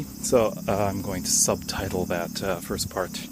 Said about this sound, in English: I wonder if you can hear the cicadas in the background.